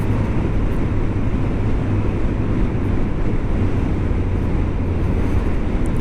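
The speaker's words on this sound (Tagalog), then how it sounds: "Kasi dito mahangin dito kaya magandang i-testing dito." Strong wind buffeting a lapel microphone beside the NLEX expressway, a dense, steady low roar that continues unbroken and close for the whole stretch with no voice over it.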